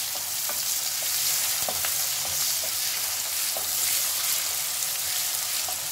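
Chopped onion frying in a pan for nari (kolmi) saag, a steady broadband sizzle with a few small crackles and pops throughout, close and fairly loud, no voices.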